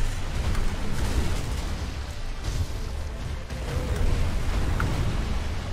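Firecracker prosthetic tool bursting during a boss fight in the video game Sekiro, a dense, steady crackling roar of explosive noise that fills the whole stretch at a constant loud level, with no voices over it.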